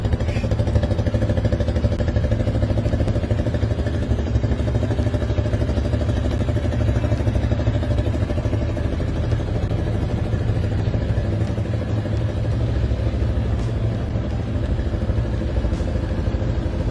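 Tekken 200 off-road motorcycle with a 200cc air-cooled single-cylinder SOHC engine, running at a steady, even clatter with no real change in pace, close and loud throughout.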